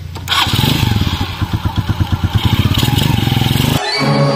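A motorcycle engine runs close and loud with a steady, rapid pulsing throb, then cuts off near the end, with no talk over it.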